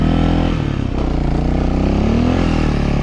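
A motorcycle pulls hard in second gear on a winter road, its engine droning loud and close with rising harmonic pitch, briefly dipping before climbing again.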